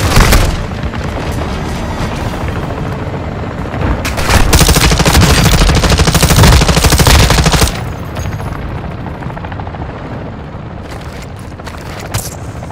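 Heavy gunfire and explosions in Call of Duty: Modern Warfare II, loud and continuous, with rattling automatic bursts and booming blasts that swell into a dense barrage before easing to sporadic shots.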